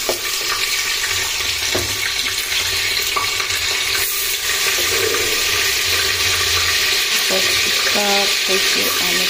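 Garlic paste for chicken mandi dropped into hot oil in a pan, giving a loud, steady, close hiss and sizzle that fills the whole stretch with faint clinks, no talking.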